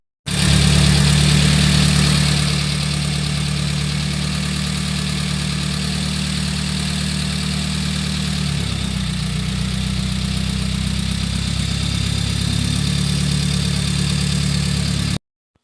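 A rebuilt Honda F20b engine with a Euro H22 intake manifold, Roscoe Racing kit and 72mm throttle body idles loudly in a car after starting, a steady low drone that settles slightly after a few seconds.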